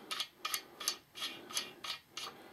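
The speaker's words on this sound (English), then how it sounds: "we're not going to turn the crank, we're just going to torque the bolts down" A torque wrench tightening crankshaft bearing cap bolts gives a rapid series of ratcheting clicks in short, evenly spaced bursts, close and fairly quiet, with no talking.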